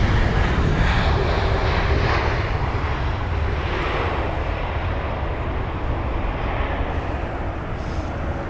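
A jet airliner roars past at London Heathrow, a loud, steady broadband engine rumble that holds throughout with only a slight easing toward the end, with no voices over it.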